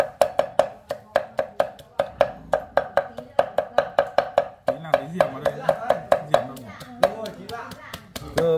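A knife mincing pork for blood pudding strikes a board in quick, steady, close thuds that run in fast bursts. People talk over the chopping.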